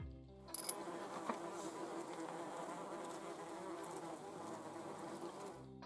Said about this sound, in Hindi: इस खौफनाक वीडियो में इतनी मधुमक्खियां एक ही ट्रैप में क्यों फंसती दिख रही हैं?